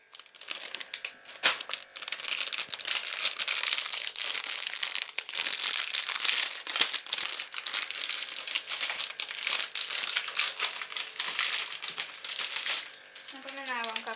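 An original-flavour microwave popcorn bag is handled and torn open, with continuous close crinkling and crumpling of the paper lasting many seconds.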